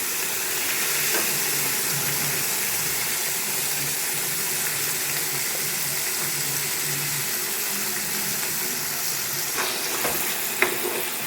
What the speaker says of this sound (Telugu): తాలింపులో పచ్చడి వేసింది